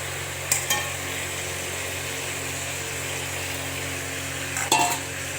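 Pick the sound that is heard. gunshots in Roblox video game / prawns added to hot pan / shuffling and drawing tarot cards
prawns added to hot pan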